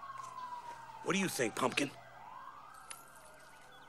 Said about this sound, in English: I can't think with all these sirens.